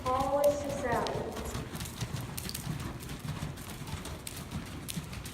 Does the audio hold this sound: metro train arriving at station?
no